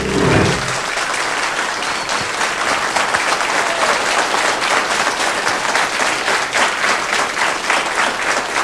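A studio audience at a 1996 Icelandic TV show breaks into loud, sustained applause welcoming the host, dense clapping filling the room evenly from start to finish.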